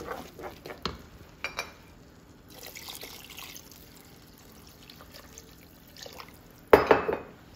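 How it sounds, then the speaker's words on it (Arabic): Water poured over rice in a pot, a soft trickling pour with a few glassy clinks, ending in a louder splash near the close; no one speaks. "غادي ندير غير نغطيه بالماء وصافي"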